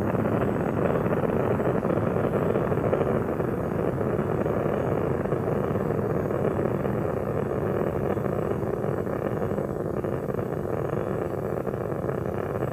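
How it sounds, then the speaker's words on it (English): Space Shuttle Endeavour's three main engines roar during the STS-88 launch from Kennedy Space Center, a steady dense rumbling wall of noise that holds unbroken and distant-sounding throughout. "Three engines on board now throttled down to two-thirds throttle to prepare the spacecraft to pass through the"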